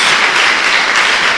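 A church congregation applauding in praise during a Portuguese-language worship service: a brief, loud, even burst of massed clapping with no pause.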